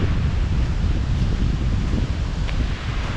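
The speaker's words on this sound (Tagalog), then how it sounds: "Grabe ang hangin." Strong wind roaring steadily and loudly across the microphone beside a hut near open water, with a constant low rumble and gusty buffeting throughout; no one speaks.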